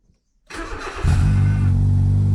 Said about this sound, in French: En attendant, le moteur tourne.